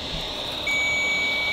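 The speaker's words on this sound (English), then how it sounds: "What is that beeping for?" Ghost hunting equipment gives off a steady high electronic tone that suddenly sharpens into a clear continuous beep, close and alone without voices.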